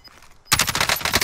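Rapid automatic gunfire in Call of Duty: Warzone bursts in abruptly after a quiet start, a loud, dense stream of close shots with no talking.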